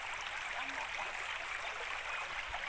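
Creek water flows steadily as a broad, continuous rush close by, with a faint voice briefly in the background.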